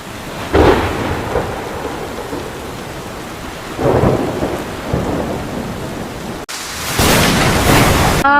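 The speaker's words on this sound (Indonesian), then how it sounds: "Sepertinya akan ada badai besar karena cuaca buruk ini." A stage drama plays a storm sound effect: steady heavy rain hiss with three rolling thunder rumbles and a loud crack near the end, with no one speaking.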